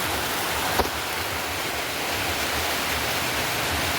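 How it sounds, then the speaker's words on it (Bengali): Heavy rain pouring down outdoors while a bike sits out getting soaked, a dense steady roar of falling water filling the whole clip, with one brief sharp knock early on and no voices. "বৃষ্টিটা অনেক দিতেছে আর বাইকটা সব বাইরে ভিজতেছে"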